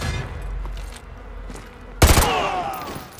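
Gunfire in Call of Duty Modern Warfare 2 Remastered: a quiet stretch with low rumble, then a sudden loud shot and a burst of sharp reports with ringing echo.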